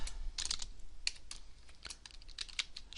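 Rapid keystrokes on a computer keyboard, a close, crisp clatter of irregular clicks in quick bursts with brief pauses, no voice over it.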